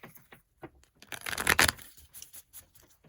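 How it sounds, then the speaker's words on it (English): Tarot cards being shuffled by hand: a few light riffles, then a denser, louder burst of card flutter in the middle, trailing off into softer, scattered shuffles, close and without talk. "We're going to get two more shuffles here, and then we will pull one."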